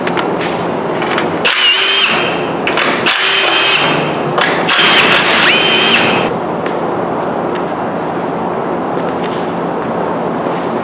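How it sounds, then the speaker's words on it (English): A power tool runs in several short bursts while valve covers come off a Dodge 4.7 engine during a teardown. A loud whirring buzz starts and stops a few times, then gives way to quieter shop noise. "Let's get these valve covers off."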